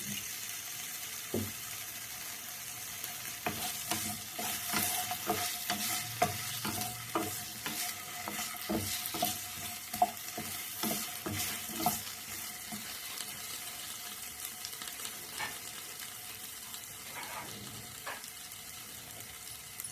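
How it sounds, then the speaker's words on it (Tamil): Vegetables sautéed in a little oil in a pan for a lunchbox breakfast dish, with steady stirring, scraping spoon clicks and a soft sizzle, close up and fairly quiet. "நல்லா இதையும் அப்படியே எண்ணெயிலே வதக்கிடலாம்."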